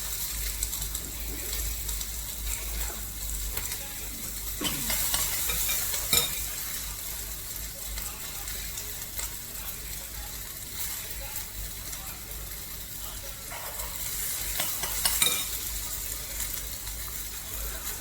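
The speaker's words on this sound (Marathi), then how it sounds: "कांदा छान हलवून घेतलेला आहे" Onion with green chilli, curry leaves and ginger sautés in hot oil for dal tadka, a continuous close sizzle with intermittent scraping and stirring strokes of a spoon in the pan.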